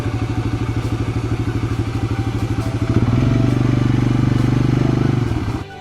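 A four-wheeler ATV idles and then revs steadily, a loud close engine with a fast, even chugging pulse that smooths into a sustained drone partway through.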